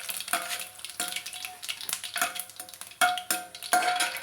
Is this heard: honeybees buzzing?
no